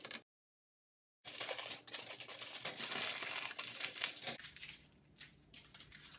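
Aluminium foil crinkles and rustles steadily at close range as it is wrapped over cardboard for a homemade ring light, with a brief silence before the handling starts and quieter crackles near the end.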